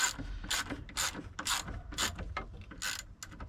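A 1/4-inch ratchet tightens bolts on a Jeep Wrangler YJ steering column in quick, close bursts of bright ratcheting clicks, about six strokes in steady rhythm with no talk.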